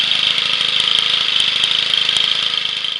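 A homemade four-cycle half-horsepower outboard engine runs at a steady idle, a close, even buzzing drone with a quick regular chug and no voices.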